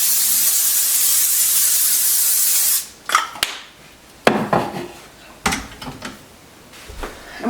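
Cooking spray hisses continuously onto a parchment-lined baking sheet for nearly three seconds, then stops, followed by a few sharp knocks and clatters of a pan being handled.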